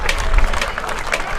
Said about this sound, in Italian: quindi grazie a loro è partito un applauso